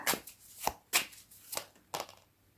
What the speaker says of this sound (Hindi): मैंने कार्ड ही उल्टे शफल कर रही हूँ